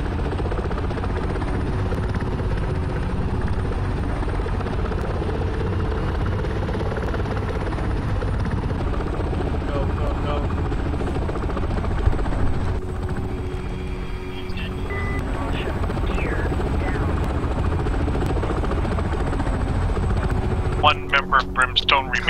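Steady, loud rotor and engine drone from inside a CH-3 transport helicopter in flight, continuous throughout with radio voices talking over it and a few sharp clicks near the end.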